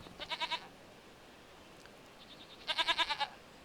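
Goats, including young ones, bleat on a farm in Farming Simulator 25, two quick bursts of rapid pulsed bleats separated by a quiet pause, fairly faint and without talking.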